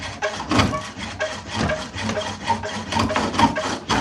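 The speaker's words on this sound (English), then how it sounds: "you get it turning and you ease the chisel in, or the lathe tool, roughing gouge, and you ease it in just until it barely starts touching" A roughing gouge cuts a wavy, rough piece of wood turning on a spring pole lathe, making a loud, close, rhythmic scraping and rasping that pulses with each stroke of the spinning workpiece.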